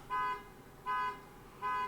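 A car horn beeps outside in a parking lot, three evenly spaced toots about three quarters of a second apart, faint and distant.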